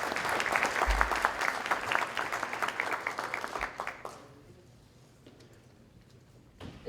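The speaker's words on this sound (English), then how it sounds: "we'd like to give you a big round of applause and welcome everybody" Audience applause at a city by-election candidates debate in Edmonton, a steady wash of clapping for about four seconds that then fades, leaving a quiet hall.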